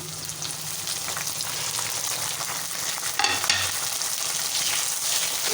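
Chopped tomatoes and green chillies sizzle in hot oil with browned onions for aloo gosht, a close, steady crackling fry with a brief stir partway through and no speech.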